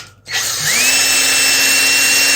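Power drill with a chuck fitted spinning screws out of an ebike hub motor during a service: a short click, then a steady, loud high-pitched motor whine that rises in pitch and holds, close up with no talk.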